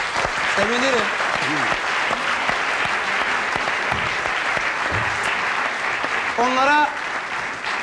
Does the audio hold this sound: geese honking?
no